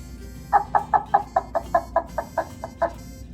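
A homemade craft duck call, made by pulling a wet sponge along yarn, gives about eleven sharp, evenly spaced quacking squawks at a quick steady rhythm, loud and close.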